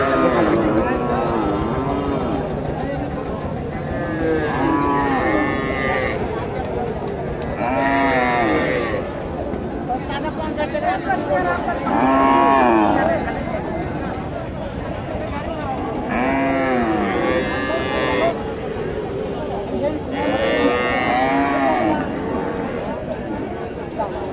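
Cattle low repeatedly at a cattle market in Bogura, long drawn moos recurring every few seconds amid busy market chatter and a steady hum of crowd noise.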